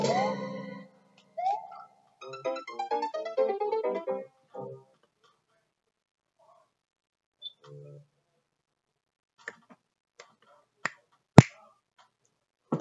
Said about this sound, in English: I learned how to snap my fingers.